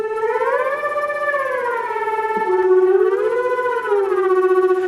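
A sustained sampled tone in Philharmonik slides and bends upward in pitch while keeping its tempo, wavering smoothly over a steady pulse, clear and moderately loud.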